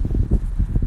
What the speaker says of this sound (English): It's a little windy here. A little breeze going.